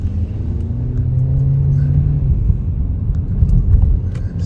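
Inside a Volkswagen Arteon, the engine hums and rises as a quick paddle-shift change is made out of first gear, a low steady rumble with a brief tonal climb and drop, heard from the cabin.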